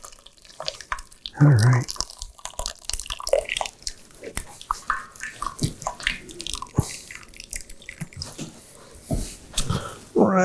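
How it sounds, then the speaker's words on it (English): Cooked pasta and peas drained from a pot into a bowl, water pouring and splashing in bursts under a busy kitchen clatter, with a voice speaking briefly nearby. "We're going to drain this pasta and these peas."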